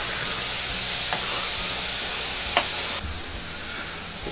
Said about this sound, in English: this has been frying for 3 minutes now